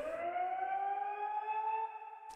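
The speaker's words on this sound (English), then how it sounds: "Throughout the song, I added this little siren, the siren right here," A rising-and-falling siren wail used as an effect in a song holds steady on its own, a smooth electronic tone gliding slowly upward, then cutting off abruptly.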